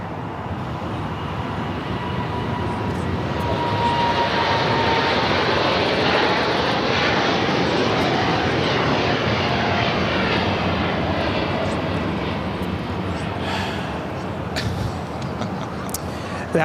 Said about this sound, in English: operated by Polar Air Cargo 927, taking off to Seoul on the 747-8 freighter